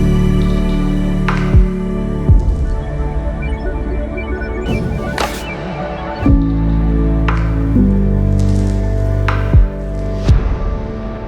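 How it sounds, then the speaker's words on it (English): Slow, sparse down-tempo beat built from a deep kick and a snare, dressed with Foley textures and soft rustling layers, each hit ringing out against a sustained ambient pad. "I bring in a bunch of percussion and it sounds like this."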